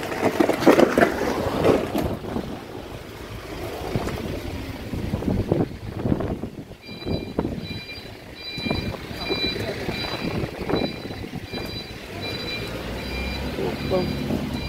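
Strong wind gusts and buffets against the microphone outdoors on a road trip to Zurrieq, a loud rushing roar that swells and fades, with a person speaking at times.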